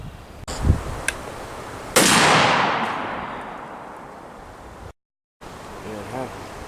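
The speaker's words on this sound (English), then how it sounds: "we're gonna go ahead and shoot with the 180 grain Federal 308 ammunition, and we're shooting 3/8 inch A36 steel" Federal .308 rifle rounds, 180 grain, fired at 3/8 inch A36 steel plate; a sharp crack followed by a second loud blast with a long decaying roar, then a brief cut to near silence.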